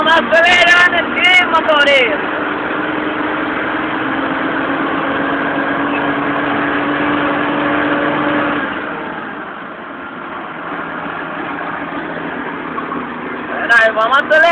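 A truck engine revs and accelerates loudly inside the cab, holding a strained, steady drone with a clear pitch, easing off partway through, while someone talks over it.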